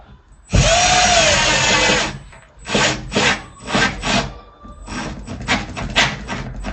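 A power drill drives long screws through a wooden dresser into a wall stud: one loud sustained whir followed by a series of short, close bursts of drilling and grinding into wood.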